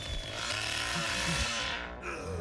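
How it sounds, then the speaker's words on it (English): A chainsaw from The Texas Chainsaw Massacre video game roars loudly and steadily, with a rough buzzing drone that holds for the whole stretch before briefly dipping near the end. "this chainsaw is so damn loud"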